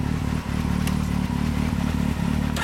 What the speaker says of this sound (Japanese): ごめん、エンジン音聞かせてもらえるかな。